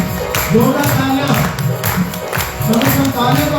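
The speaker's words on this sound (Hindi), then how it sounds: "जोरदार तालियां।" Church congregation clapping together during a Sunday service, a dense, steady patter of many hands kept up throughout, with singing or voices mixed in beneath.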